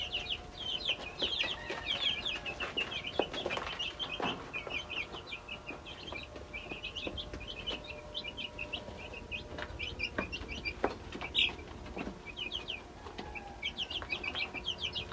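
A flock of Australorp chickens clucks and chatters steadily nearby, with rapid overlapping calls and occasional wing flaps over a soft outdoor background, no voices.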